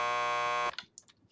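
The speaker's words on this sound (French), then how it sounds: "Just press the buzzer by the door." A police station door buzzer in the video game Max Payne 2 blares as one loud, steady electronic tone for about half a second and then cuts off, leaving a few faint clicks and scuffs.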